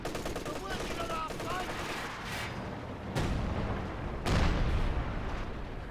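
Suppressing machine gun fire from a unit in a house in Company of Heroes 2, with sustained battlefield bursts and two heavier blasts landing amid the steady rattle of combat.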